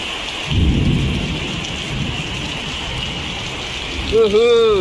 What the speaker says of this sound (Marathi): आणि गडगडाट असा विजांचा पण आवाज येतो, घडाडत आहे पूर्ण.